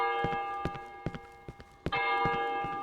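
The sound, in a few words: bell ringing in a video game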